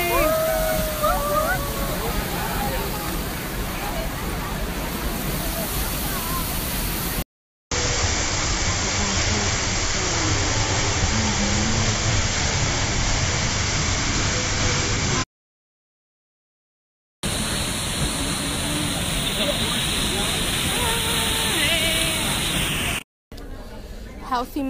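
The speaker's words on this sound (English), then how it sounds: "We just crossed the river like 5 times and Leslie's still trying to cross." River water rushing over rocks at Eaton Canyon on a hiking trail, a loud, steady broadband wash of flowing water heard close, broken by brief cuts and gaps.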